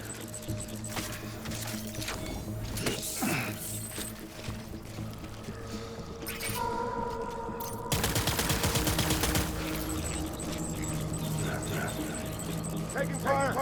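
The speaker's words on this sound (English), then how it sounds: "Taking fire." Gunfire in the video game Death Stranding Director's Cut, bursts of shots over a layered game soundscape, with a dense rapid volley in the second half and game voices speaking over it.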